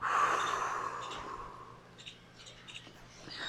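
A person breathes out audibly during a pelvic and somatic back-pain exercise, a soft, airy exhale that fades over a second or two, followed by faint small noises.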